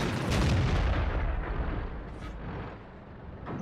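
A deep, booming cannon shot from a tank in the World of Tanks game, with the heavy blast dying away into a rumbling tail and a faint later rustle.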